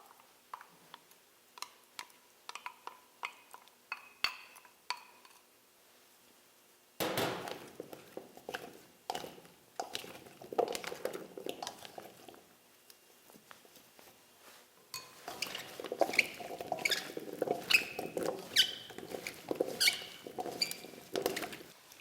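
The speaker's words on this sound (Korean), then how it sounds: "깍두기에 넣고 버무려 보도록 할게요" Kkakdugi radish cubes being mixed by hand with freshly blended kimchi seasoning, giving moist squelching, clacking and patting sounds that start sparse and grow steady and busier, close up with no talking.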